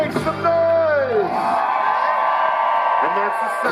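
A concert crowd at Edgefield in Troutdale, Oregon, cheers and whoops loudly after a singer's held note. The voice fades and the roar of the crowd carries on to the end.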